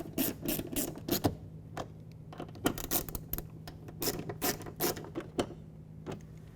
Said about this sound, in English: now we're going to reinstall these 2 Phillips head or 10mm bolts